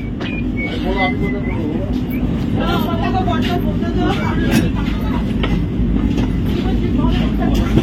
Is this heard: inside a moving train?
yes